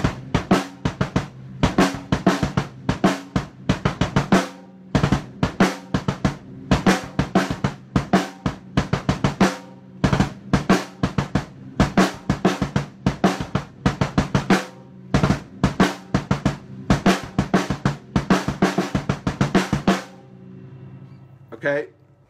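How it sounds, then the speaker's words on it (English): A kick and snare drum beat plays the intro of a song, with punchy alternating hits in a driving, syncopated rhythm and no ghost notes or fills, close and loud, ending with a brief ringing tail. "It's just kick and snare, no ghost notes, no extra hits, no spice rack filler stuff."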